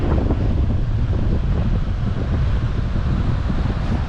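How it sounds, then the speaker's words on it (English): Strong wind buffets the microphone at a beach with ocean waves, a loud, constant rumbling roar with surf washing underneath and no voices. "It's pretty windy and nasty today, but there's some good waves."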